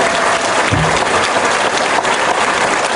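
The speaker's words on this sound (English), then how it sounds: "I would like to have a round of applause for Sylvie, Troy, and Courtney." Audience at a BioShock Infinite panel at PAX applauding, a loud, dense burst of clapping that holds steady for the whole stretch, with faint crowd noise beneath.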